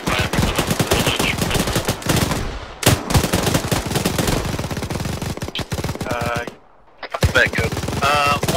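Gunfire in a military video game: rapid, loud bursts of automatic fire with single shots, continuous apart from a brief silent gap, with voices faintly mixed in.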